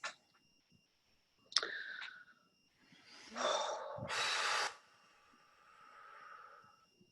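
A single person draws in one deep breath and lets it out during a calm stress-relief tapping session, with a few soft clicks and short snorts beforehand; the breathing is close and clear, with no talking.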